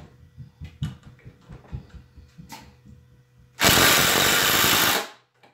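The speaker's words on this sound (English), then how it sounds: "The Craftsman sunk the screw before that." A Craftsman impact driver sinks a screw in one loud, close burst of rapid hammering that lasts about a second and a half. Quieter handling and tapping come before it.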